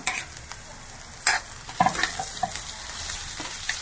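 Chopped vegetables stir-fried on a high flame for a veg spring roll filling, with a steady sizzle broken by several sharp scraping stirs near the pan, and no voices.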